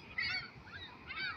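Several geese honk close by in overlapping, nasal calls, two louder bursts framing a quieter stretch in between.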